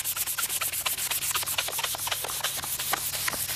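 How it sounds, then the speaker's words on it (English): Rapid back-and-forth rasping of a sanding block on a cloudy, UV-deteriorated plastic car headlight, steady rhythmic strokes close up, with a low hum underneath. "we're sanding off this UV ray deterioration using this sanding block"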